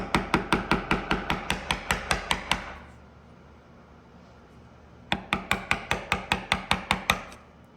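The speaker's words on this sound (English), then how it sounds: "I'm doing a little finer tapping here." Fine mallet taps on a Blue Spruce chisel while cutting a dovetail: a quick, even run of about twelve sharp close knocks, a pause of a couple of seconds, then another similar burst.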